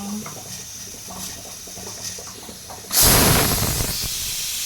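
A pressure cooker whistles: after quiet kitchen sounds, a loud, sudden hiss of steam bursts out and keeps rushing steadily to the end, with a high whistling edge.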